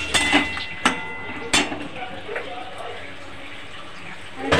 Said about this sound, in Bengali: তেঁতুল দেওয়া বাটির জলটাও দিয়ে দিলাম পরিমাণ মতো।